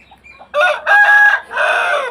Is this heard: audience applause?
no